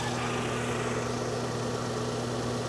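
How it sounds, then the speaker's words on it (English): A V10 car engine idles steadily, a constant low hum with a faint mechanical whir, close by and unbroken throughout. "let's just jump out and listen to the engine real quick"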